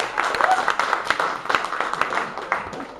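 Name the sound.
applause from comedy club audience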